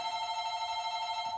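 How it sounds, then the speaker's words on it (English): A telephone bell rings steadily at moderate volume, a continuous electronic trill with a regular pulsing rhythm filling the whole moment, with no voices over it. "I'm sorry that the phone's ringing."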